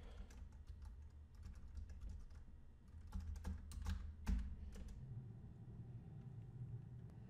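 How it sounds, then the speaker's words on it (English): Keystrokes on a computer keyboard as a command is typed into a Windows command prompt, a steady run of close clicks over a low background rumble, with no talking. "Let's see if I can type this in."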